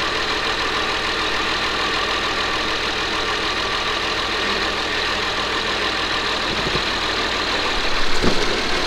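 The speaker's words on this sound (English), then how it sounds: "I'm trying to get this tire to spin out." A vehicle engine drones steadily as the driver tries to make a tire spin out. The rumble is continuous and close, with a brief louder surge and a couple of knocks near the end, and no voices.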